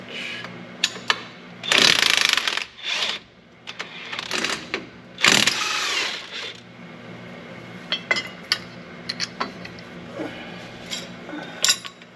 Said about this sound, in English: Alright, I'm going to need an 18mm and the electric wrench.